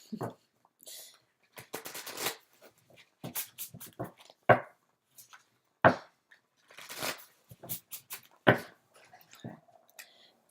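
Tarot cards riffled and shuffled by hand in short papery bursts, several separate flurries with pauses between, close and fairly quiet, with soft talk in places.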